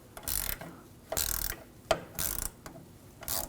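A socket wrench ratchets back and forth loosening a nut on the rear level sensor arm of a 2007-2013 BMW 328i, several close clicking bursts with brief pauses.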